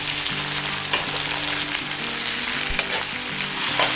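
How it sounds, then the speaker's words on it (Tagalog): Diced Spam and tomatoes being stirred in a frying pan: loud continuous sizzling close up, with scraping strokes of a spatula and a few sharp clicks against the pan. "Hahaluin na naman po natin"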